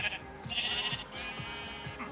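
Sheep in the Talos Principle video game bleat several times in quick succession, wavering calls close by, with a low rhythmic background pattern underneath.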